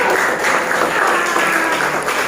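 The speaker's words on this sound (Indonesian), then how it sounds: "Oke, kasih tepuk tangan." Classroom applause from students after a history lesson presentation, a steady dense wash of clapping that holds evenly throughout at moderate loudness, with faint voices mixed in.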